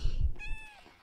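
A Minecraft cat gives a single short, clear meow, close and fairly loud, just after a brief low thump.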